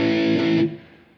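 A single distorted electric guitar power chord rings out loudly, then is abruptly muted after a moment, leaving a short fading tail.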